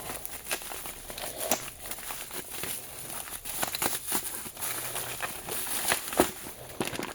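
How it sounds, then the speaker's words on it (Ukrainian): Packing tape is pulled and torn off a parcel from Japan with crinkly, crackling rips and scattered sharp snaps, fairly quiet and close, with no talking. "цей скотч зірвемо."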